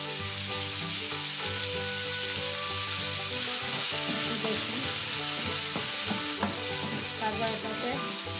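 Chopped onion dropped into hot oil in a frying pan, a continuous loud sizzle and crackle with steady hiss throughout, alone without talk, over faint background music.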